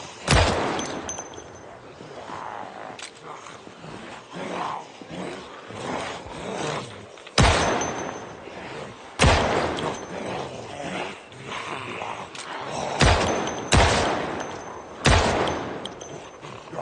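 Repeated gunshots fired in the zombie survival game Project Zomboid, sharp loud cracks spaced irregularly over a steady background of game ambience, with several bursts in quick succession.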